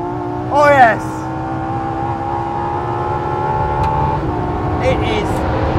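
Ferrari LaFerrari V12 hypercar driving on the Portimao circuit, its engine holding a steady, sustained drone throughout, with a brief rising whine near the start and faint tonal chirps later.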